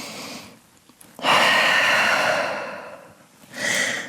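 A deep breath drawn in and released while holding a downward dog yoga pose: a long airy exhale that swells and fades, followed by a second shorter breath, close and alone.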